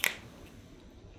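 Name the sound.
finger snap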